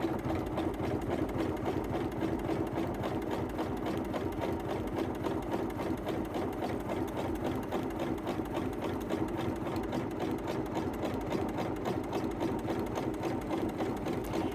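A dual feed sewing machine stitches through thick upholstery vinyl, its rapid mechanical chatter steady and even throughout, close and moderately loud with no voices.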